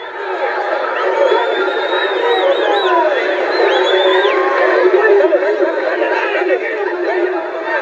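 A large festival crowd cheers and chatters continuously as a one-tonne giant paper kite is raised, with dense, steady murmur and scattered whistles and calls throughout.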